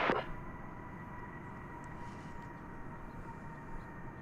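An airplane arriving from Querétaro passes at DFW Airport, a steady broad jet engine rumble with a faint whine, moderately distant, after a brief sharp crackle at the start.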